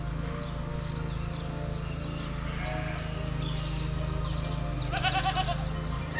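Near the end, a goat or sheep on a rural farm with many animals gives a short, distinct bleat over a steady low hum, with faint birds chirping in the background.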